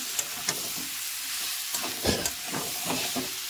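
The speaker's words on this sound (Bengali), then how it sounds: "মশলাটা ভালো করে কষে নেব" Spice paste with potato and pointed gourd being sautéed in a pan, a steady sizzling fry with scraping stirring strokes at an irregular rhythm, close and moderately loud, no voices.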